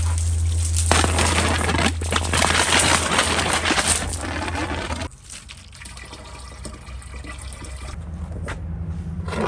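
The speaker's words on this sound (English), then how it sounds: "So here we'll just fill up from our rainwater tank." Water from a rainwater tank pouring into a container to soak a wilting orchid, a steady close gushing fill that softens partway through as the flow changes.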